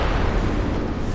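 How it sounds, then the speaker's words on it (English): A loud, sustained roaring blast from a cannonball explosion in the video game Bloodborne, dense and rumbling throughout with no talk over it. "The explosion itself is what hurts you, not cannonball."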